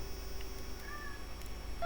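A cat meows in the video game Avowed, a faint short mew over a steady hum of background ambience.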